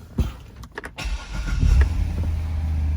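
A 2005 Chevrolet Corvette Z51 coupe engine cranks and catches, settling into a steady low idle close by.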